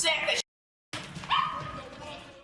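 A dog in a movie scene barks in short, urgent, fairly close bursts. A brief silent gap cuts in, then a voice speaks over the barking as it trails off.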